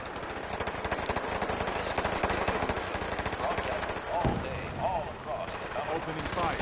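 Rapid automatic gunfire from the video game Fallout 4, a steady stream of closely spaced loud shots for about four seconds, then a sharp blast and scattered game sounds as the shooting tails off.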